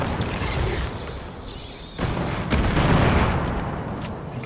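Gunfire rattles in a Fortnite match, dense bursts of shots and booms over a noisy game soundscape, loud and continuous with a brief dip before the firing picks up again.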